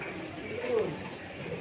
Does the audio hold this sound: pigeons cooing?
yes